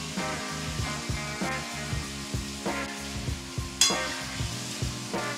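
Boiled, cut potatoes tossed into a hot pan and stir-fried for a vangibath, giving a steady sizzle broken by repeated scraping stirs and spatula knocks, with one sharper clack near the end.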